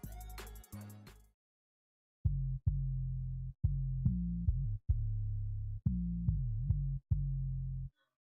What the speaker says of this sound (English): I added another 808 which is mostly just low end